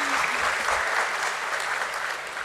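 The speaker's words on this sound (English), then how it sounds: "yes, we can have once more an applause" Audience applause at a stock exchange listing ceremony, a dense, steady round of clapping from a large indoor crowd that holds at full strength and tapers only slightly.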